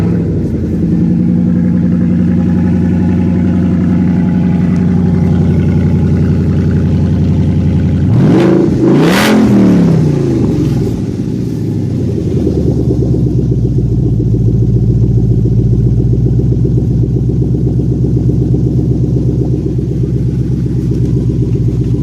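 A Ford Mustang engine with its exhaust cutouts open idles with a loud, deep rumble close by. Midway it gives a quick sharp rev that rises and falls, then settles back into a steady, throaty idle.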